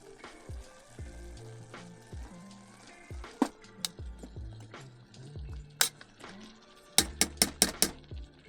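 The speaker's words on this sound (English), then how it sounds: "Alright, it's time to add the vegetables." Vegetables tipped into a pot of cooking onions on a stove inside a heated winter camping tent at -15°C, giving soft clatters, scrapes and a few sharp knocks of utensil against the pot, with a quiet sizzle underneath.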